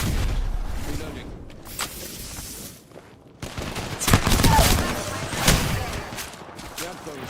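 Gunfire in the video game Apex Legends comes as bursts of sharp shots and rapid volleys, with a brief quiet gap before heavier fire resumes. A voice speaks faintly over the shooting.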